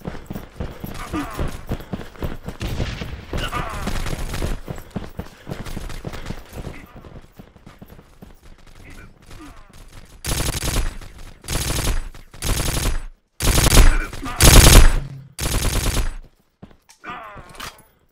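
Bursts of rapid gunfire from the video game War Trigger crackle loudly in quick volleys, with several sharp clusters of shots in the second half and a voice talking over the earlier stretch.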